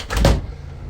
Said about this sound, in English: here's the door that goes out of the back of the house